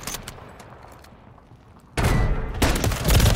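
Call of Duty gunfire, tied to a Kar98K sniper rifle, comes as a loud, sharp shot with a heavy blast midway, then a second burst, after quieter ticking game sounds.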